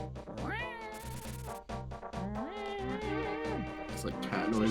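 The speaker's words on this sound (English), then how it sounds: "It's like cat noises." Cat meows from A Link to the Past Randomizer, a run of bright, wavering mewls over steady game music, loud and close, with a voice briefly talking underneath.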